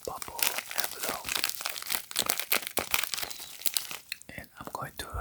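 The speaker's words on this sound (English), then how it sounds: "It is in this bubble wrap or bubble envelope" A bubble wrap envelope holding power banks handled up close, with dense crinkling and crackling, sharp rustles and tearing-like scrapes throughout, under soft speech.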